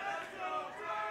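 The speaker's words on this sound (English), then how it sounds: "we got a Let's Go Dragon chant in the crowd" Crowd at a Mortal Kombat XL fighting game tournament top 8 in Tennessee, chanting "Let's Go Dragon" in a steady, rhythmic roar of many voices that fills the hall.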